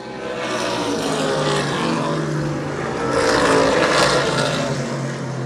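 Modified race cars roar around a 3/8 mile oval track in a 100 lap feature, a dense continuous engine drone that swells and fades slightly as the pack passes, loud and steady with no speech.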